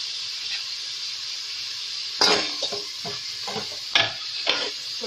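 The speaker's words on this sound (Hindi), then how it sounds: "तो 2 मिनट भूनूंगी मैं लहसुन अदरक और साबुत गरम मसाले के साथ, थोड़ा भूनूंगी।" Garlic ginger paste and whole garam masala fry in hot ghee for chicken yakhni pulao, a steady close sizzle broken by several sharp stirring scrapes and clinks of a spoon against the pan.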